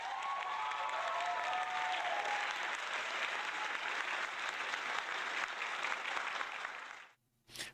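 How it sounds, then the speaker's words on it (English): A canned applause sound effect plays as a burst of dense crowd clapping, loud and sustained for about seven seconds before cutting off abruptly, followed by a brief short blip. "He's starting to combo the applause button with like other applause buttons."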